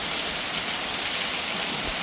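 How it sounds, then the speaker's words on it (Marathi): Heavy rain pours down steadily in Umarga, a dense, even hiss of water falling close by that fills the whole two seconds without a break and with no voices. "अरे अरे पाऊस किती मस्त पाऊस पडतोय पहा"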